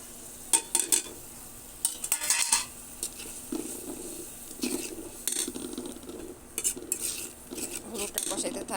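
A metal spoon scrapes and clinks against a pan while turmeric and spices fry for a silver carp and tomato curry, irregular stirring strokes over a soft sizzle, close up and without speech.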